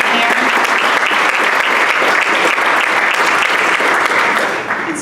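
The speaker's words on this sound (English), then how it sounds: "Let's give him one more round of applause for being here." Sustained, loud applause from the audience at a Rotary club meeting, with steady clapping filling the room for about five seconds before tapering slightly at the end.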